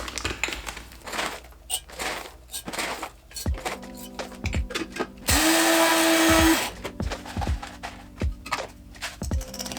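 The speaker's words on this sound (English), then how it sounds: "I use only whole bean coffee, so I have my coffee grinder right here actually" A coffee grinder with whole coffee beans in a kitchen, starting with rattling and clattering handling noises, then a loud steady grinding whir of about a second and a half before it stops.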